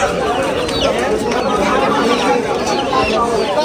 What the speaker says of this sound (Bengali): খুব সুন্দর কবুতরের হাট।